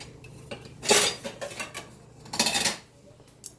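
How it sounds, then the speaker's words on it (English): A metal lid set onto a cooking pot on the stove, giving a couple of clanking metallic knocks and rattles, close and moderately loud, with light kitchen handling noise around it. "So on goes the lid."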